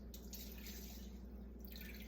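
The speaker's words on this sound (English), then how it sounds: "what I'm going to do now is I'm going to add the water." Water from a whiskey glass pours steadily onto basmati rice in a pot, a soft continuous splashing trickle heard close and fairly quiet, with no talking.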